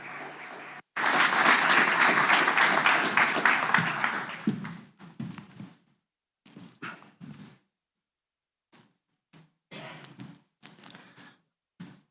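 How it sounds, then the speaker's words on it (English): Audience applause welcoming speakers at a regional policy launch event, a loud burst of clapping that fades after about four seconds, followed by short scattered sounds and quiet gaps. "So we welcome them with a great round of applause."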